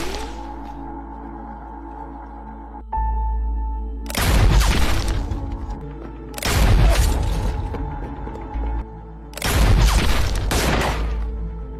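Gunfire erupts in three heavy bursts during a sniper shootout in the film The Sniper, each loud crackling volley following a tense, low droning lull.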